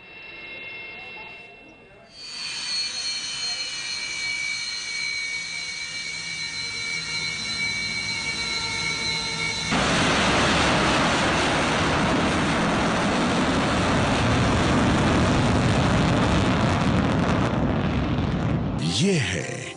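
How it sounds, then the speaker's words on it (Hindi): A Sukhoi fighter jet roars loudly and continuously, first with a high whining engine tone and then with a fuller, rushing blast that builds and holds until a sudden cutoff. "लड़ाकू विमान सुखोई में महिला रक्षा मंत्री निर्मला सीतारमण ने उड़ान भरी"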